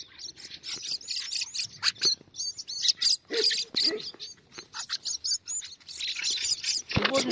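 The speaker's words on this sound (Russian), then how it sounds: "Смотрите, это маленький певчий дрозд." Young song thrush chicks give rapid, high, thin chirps in irregular bursts, close by and fairly clear, with occasional soft, low sounds in between.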